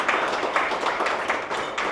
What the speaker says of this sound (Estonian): Mul on hea meel, teeme suure aplausi.